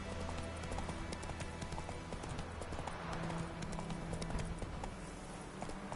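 Hooves of Roach, a horse in the video game The Witcher 3, clip-clop in a steady galloping rhythm, close and continuous over a dense game ambience.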